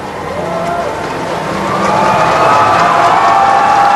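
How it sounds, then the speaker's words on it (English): Stadium crowd at a SEA Games athletics final cheering for Malaysian athletes, a swelling roar of voices and applause building louder over a few seconds, with a commentator audible over it. "A bit of a cheer about for the Malaysian athletes."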